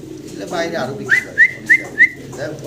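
Male Lahori pigeon cooing, with a few short rhythmic calls close to the microphone over faint background chatter and noise.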